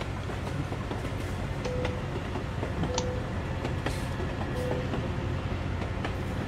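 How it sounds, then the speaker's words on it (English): A train rumbles past in a truck-driving simulator game, a loud continuous rolling roar with wheel clatter and a few brief tonal squeals, heard without speech. "That train is super loud."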